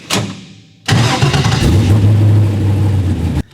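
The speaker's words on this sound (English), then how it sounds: "You have to be either in park or neutral in order to get the buggy to start." A 2023 BKOR Rock Bouncer rock buggy engine cranks briefly, falls quiet, then fires and holds a loud, steady, close rumble for about two and a half seconds before cutting off.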